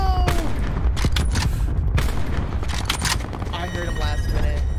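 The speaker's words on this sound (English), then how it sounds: "They're shooting somebody on your left, on your left!" Gunfire crackles in Call of Duty Black Ops 4 Blackout, with several sharp shots and short volleys at mid distance while players talk excitedly over them.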